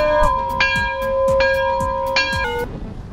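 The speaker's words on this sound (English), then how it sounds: "Somebody ring the bell." A bell-like chime rings out in sustained, clear tones that step between pitches over a steady thumping beat, loud and close, with no talking.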